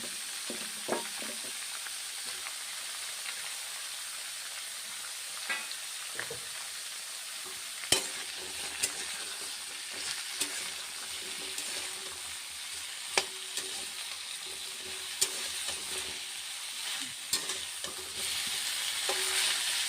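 Thin, long strips of potato fry in a pan with a constant close sizzle, broken by occasional sharp clicks and scrapes of a stirring utensil, with no talk.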